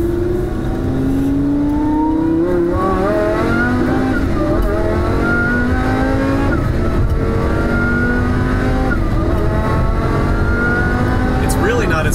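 A supercharged Lamborghini Huracan VF800 with stock exhaust heard from inside the car during a ride-along, engine droning and rising through repeated climbing pitch sweeps as it accelerates, loud and continuous, with voices talking over it.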